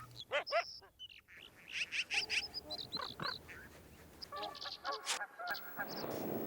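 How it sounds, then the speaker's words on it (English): Geese returning to Yellowstone in spring thaw honk repeatedly in a loose, overlapping series, the calls fairly close and clear against a quiet outdoor background with other bird calls mixed in. "Returning geese take their turn to check the progress of spring thaw."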